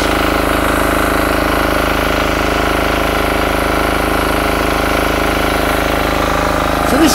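A Yanmar L100 electric-start belt-drive pressure washer, rated 200 bar at 15 litres, runs steadily with its 4-in-1 nozzle fitted, a loud unbroken engine drone with no talk over it.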